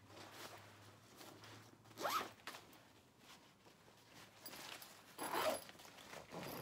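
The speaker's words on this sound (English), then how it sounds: "Zipper works fine." Backpack zipper pulled open and shut in two quick zips, close and fairly quiet, with soft handling rustle in between.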